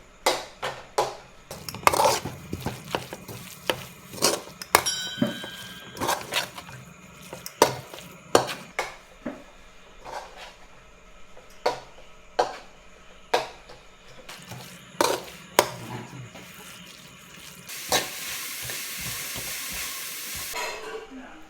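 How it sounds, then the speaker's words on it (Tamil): Masala stirred in a pan with coriander and mint for biryani-style tomato rice, sharp spoon clanks against the pan at irregular intervals over a soft sizzle, ending in a louder steamy hiss, close and alone. "நல்லா மிக்ஸ் பண்ணி விட்டுக்கோங்க. மசாலாவோட அப்படியே மிக்ஸ் ஆகட்டும்."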